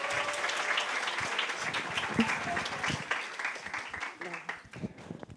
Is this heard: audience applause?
yes